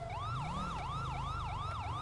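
A police car siren in a roleplay video game wails in a steady repeating up-and-down pattern, loud and alone, with a low engine hum beneath it.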